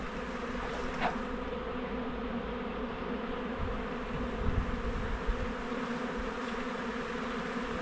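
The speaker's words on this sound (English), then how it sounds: "there's a swarm of bees" A steady, dense buzzing drone of a swarm of honey bees fills the air continuously, fairly loud and close, with no voices.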